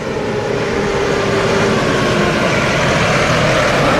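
A tractor passes on a rural road in Warns, Friesland, in the Netherlands, giving a loud, steady engine rumble that stays close and heavy for the whole stretch, with no talk.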